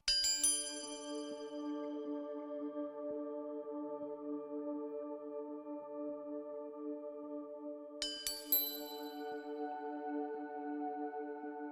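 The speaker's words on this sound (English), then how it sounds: "The very first sounds you hear are the meditation chimes." Chimes ring out clearly twice, a bright strike at the start and another near the end, each leaving a long shimmering resonance that fades slowly.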